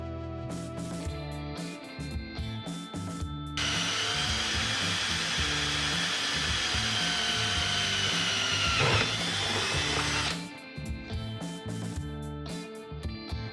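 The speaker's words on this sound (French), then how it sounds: "Donc tout d'abord, on va commencer par le perçage des interrupteurs pour les pieds." A power drill bores holes for guitar-pedal footswitches in enclosure material, a steady high whine lasting several seconds that shifts in pitch mid-cut, framed by quieter handling clatter before and after, close and without speech.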